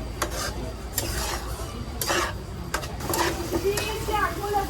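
Tuna kheema masala, Koli style, being stirred in a pan: rhythmic scraping strokes over a soft sizzle, close and moderate, while someone talks.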